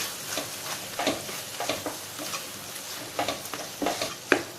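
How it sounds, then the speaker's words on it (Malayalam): Soya chunks are dry-roasted and stirred in a pan. A spoon scrapes through them in irregular, close strokes over a soft sizzle, with no talking. "ഇനി നമുക്കിത് തുറന്ന് നന്നായിട്ടൊന്ന് വീണ്ടും മിക്സ് ചെയ്ത് കൊടുക്കാം."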